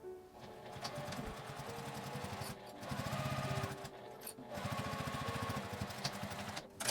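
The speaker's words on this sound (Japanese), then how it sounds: "印から印を1センチの縫い代で縫います" A sewing machine stitches a one-centimetre seam on a small flap-style mini pouch, a quiet rapid mechanical chatter running in bursts with a few short pauses and clicks between them.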